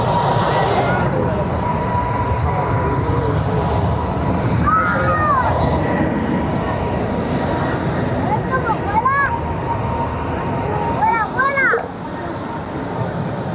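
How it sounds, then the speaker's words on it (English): A British Airways airliner departs Barcelona airport, a steady engine roar under loud nearby crowd noise and children's voices, with people talking throughout. "Right now we've got BA departing back to London."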